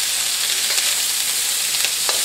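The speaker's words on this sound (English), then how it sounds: "Ooh, now it's sizzling." Chopped bacon rashers sizzle in a pan as the start of special fried rice, a loud, steady hiss of frying fat with faint crackles throughout and no voices.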